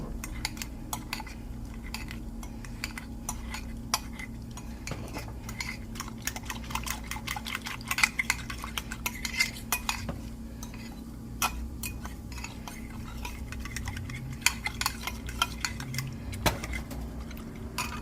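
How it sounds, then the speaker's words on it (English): Cooked potatoes for a vegan shepherd's pie are mashed against the side of a pot, producing a steady run of close metallic scraping and clinking from the utensil, alone without talk over a faint low hum. "You want to try to get the lumps out if you can. Just mush them against the side."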